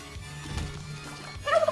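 A turkey gobble sound effect plays on a livestream, a quick burst of rapid warbling gobbles at the end after a stretch of low background hum.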